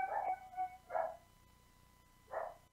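Three short, sharp dog barks ring out at moderate distance, spaced irregularly across a quiet room, with no one talking.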